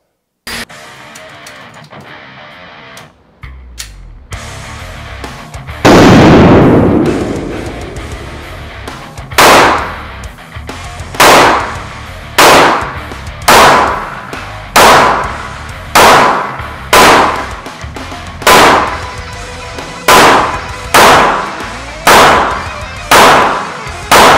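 A Gen 5 Glock 19 pistol fires about a dozen sharp, loud shots outdoors, evenly spaced after a slower first report, each crack ringing out briefly.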